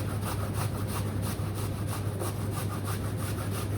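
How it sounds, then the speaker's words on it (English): An apple, halved and cored, is rubbed quickly across a grater in fast, even rasping strokes that carry on steadily, close and fairly soft, with no voices. "we're just going to give it a quick grate on the grater"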